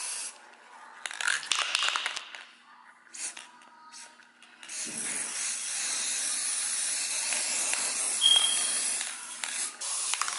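A spray can hisses in bursts while paint is sprayed onto a decorative XO sign, with short sprays at first and then a longer continuous hiss near the microphone.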